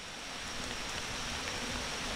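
Heavy rain pouring down over a forest stream bed, a dense, steady hiss of water with no break across the short stretch and no voices.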